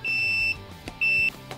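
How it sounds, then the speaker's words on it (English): A multimeter on continuity mode beeps twice, each a steady high electronic tone about half a second long, clear and close with a short gap between. "if I put the end of the multimeter there and the end of it here, it beeps"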